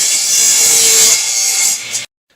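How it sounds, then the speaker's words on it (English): Treated wooden decking board being sawn, a steady, loud rasping cut lasting about two seconds close up before stopping abruptly, with no talk. "you want to cut these 32 3/4, and it's just basic decking"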